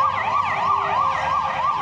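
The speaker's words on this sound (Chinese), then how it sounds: "警车开入枪击现场，" A police car siren wails in a rapid, regular up-and-down sweep at a crime scene in Brussels after a shooting. It is loud and continuous and is heard alone over faint road noise.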